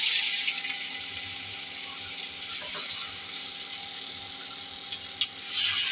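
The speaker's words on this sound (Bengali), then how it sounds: "তেল গরম হয়েছে, এখন মাংসটা ছেড়ে দেব।" Chicken pieces fry in hot oil mixed with ghee, making a steady, close hiss of sizzling with scattered small pops and crackles throughout.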